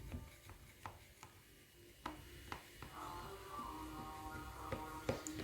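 A knife slices through baked qalb el louz, a syrup-soaked semolina cake, giving a series of sharp, close taps and scrapes at an irregular rhythm as the blade strikes the tray, with a faint hum underneath.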